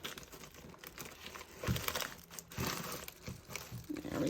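Packaging being torn open slowly and carefully during an unboxing, with steady close crinkling and crackling of plastic and paper and a few sharper rips, no talking.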